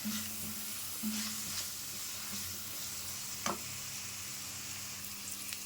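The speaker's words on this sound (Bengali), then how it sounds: "এখন আলুটাকে ভেজে নিতে হবে ভালো করে।" Potatoes frying in oil seasoned with turmeric and salt give a steady, close sizzle throughout, with a few soft stirring scrapes and a sharper clink near the middle.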